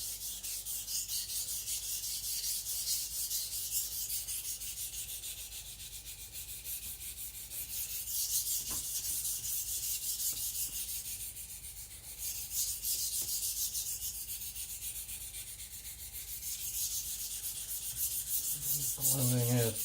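A knife blade is thinned and sharpened with long, continuous abrasive strokes, a steady hissing rub that swells and eases in rhythm, close and fairly quiet, with a couple of small knocks between passes.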